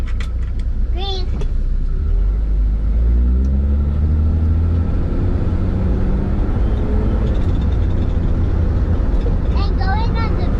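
A 1963 Chevy II Nova on the road: a steady, loud low engine and road rumble fills the cabin throughout, with brief voices near the start and end.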